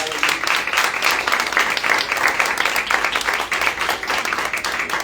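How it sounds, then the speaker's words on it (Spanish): A church congregation bursts into sustained, lively applause for the Lord, with the dense clapping staying steady and fairly close throughout the five seconds. "Dale un aplauso al Señor."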